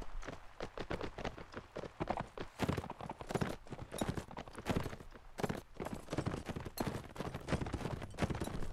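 Horse hooves gallop continuously in Mount & Blade: Warband, a fast, dense clatter of hoofbeats running steadily and loud throughout, with no talking over it.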